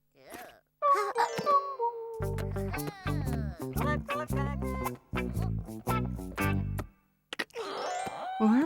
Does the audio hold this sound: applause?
no